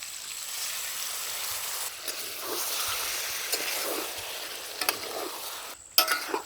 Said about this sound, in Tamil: சிக்கனை சேர்த்து நல்லா பரட்டி விட்டாச்சுங்க